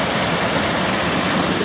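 Crystal clear woodland stream near Round Top Peak rushing loudly and steadily up close, a continuous even hiss of flowing water with no voices.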